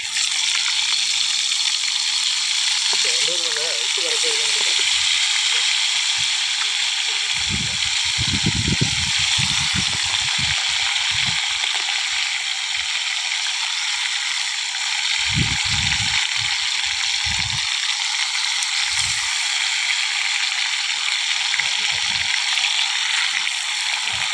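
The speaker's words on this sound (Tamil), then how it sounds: "அடுத்து மீதி மிச்சம் இருக்கிற மீனை எண்ணெயில் போடலாம்." Fish fry in hot oil with a steady, loud sizzle throughout, while occasional low thuds and scraping from stirring or placing pieces break in at intervals, with no one speaking.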